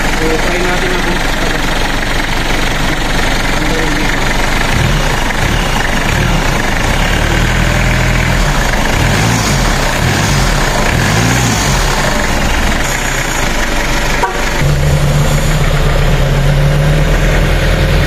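The 4M40 diesel engine of a Mitsubishi Pajero 4x4 idling close by, a continuous low rumble and rattle that stays steady throughout, with a brief knock near the end.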